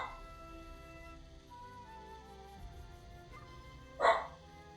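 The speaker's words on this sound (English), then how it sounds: "And of course, the dog has to bark." A single dog bark rings out near the end, one short loud burst rising over a steady background of low music or hum.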